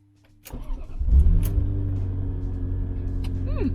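Ferrari F355 engine starting up close by, firing with a sharp bark and then settling into a strong, steady idle with a deep rumble, and a brief whine near the end.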